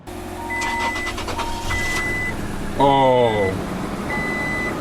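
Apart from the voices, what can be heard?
Toyota Tacoma engine starting after jump start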